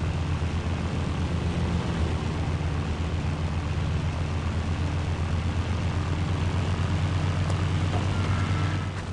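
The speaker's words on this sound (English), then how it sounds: "I'm definitely going to need to take the plane that's in front so I don't crash into the empty one." Propeller plane engine in the video game Battlefield 1942 drones steadily for several seconds, a loud, constant buzzing hum with no talk over it.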